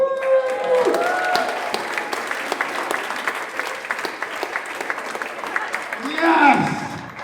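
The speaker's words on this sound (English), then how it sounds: "Let's give him a round of applause." Audience applause at a young people's orchestra concert, a full hall clapping continuously and fairly loud, with cheering and voices mixed in over the clapping.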